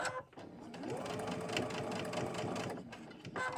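A sewing machine stitches through felt for a heart project in one steady, continuous whir of rapid needle strokes, moderately loud and close, with brief quieter moments at the start and end.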